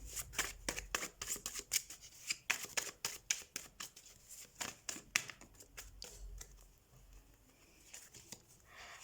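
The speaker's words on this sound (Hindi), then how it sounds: "हम कार्ड शफल कर लेते हैं" A deck of tarot cards is shuffled by hand, giving a run of quick, soft riffling and patting flutters, close and fairly quiet, easing off toward the end.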